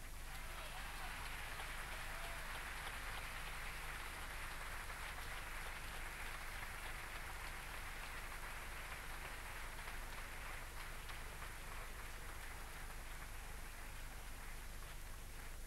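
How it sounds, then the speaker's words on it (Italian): At the Sannazaro theatre in Naples, an audience gives the musicians a long, continuous round of applause during a tribute concert. The applause is a faint, distant, rain-like wash that never breaks. "Io volevo un applauso fortissimo perché se lo meritano veramente"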